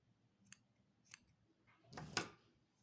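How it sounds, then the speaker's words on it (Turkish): Scissors snip through soft yarn while crocheting an eared bucket beanie, giving two light, quick clicks followed by a louder, longer crunching cut, close and quiet with no talk. "makasımı alıyorum, geriyorum ve yukarı doğru kaldırıyorum. Burada dikkatli keselim. ipimizi kesmiş oluruz."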